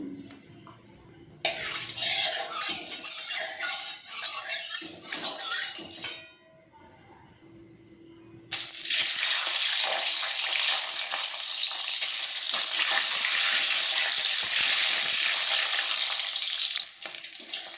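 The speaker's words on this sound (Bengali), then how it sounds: "দিয়ে দিচ্ছি তেল, ডিমটা আমি ভেজে নিই।" An egg frying in hot oil in a home kitchen, a loud steady sizzle that starts abruptly, drops out briefly, then returns and holds strong to near the end.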